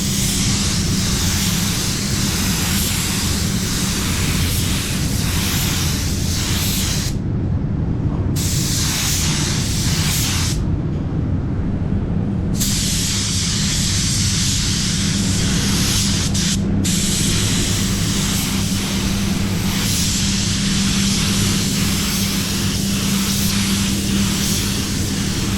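DV1 basecoat spray gun spraying PPG Envirobase paint, a loud steady hiss of air and atomized paint in long bursts with a few short breaks between passes.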